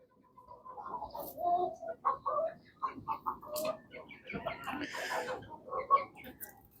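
Ducks and chickens kept together on a rooftop farm in Egypt call in a busy run of quacks, clucks and coos, fairly close and steady throughout, with sharper calls near the end.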